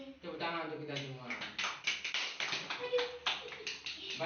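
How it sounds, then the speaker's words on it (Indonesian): A classroom of students applauds together, brisk overlapping claps at a steady rapid rhythm, fairly close and moderate in volume. "Tepuk tangan untuk kita semua."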